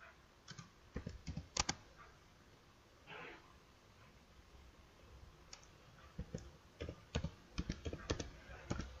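Bursts of crisp, close computer keyboard typing as a search term is entered, with clustered key clicks, a short gap of quieter rustle, then more rapid tapping.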